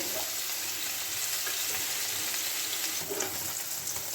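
Paneer cubes lightly frying in a pan over a medium flame, a continuous even sizzle with faint stirring noises, close up and without voices.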